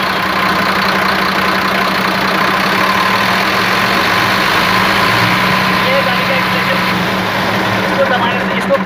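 A Bharat Benz 3123 BS3 truck diesel engine runs loud and close at a steady idle, a constant low rumble throughout with no clear change in revs.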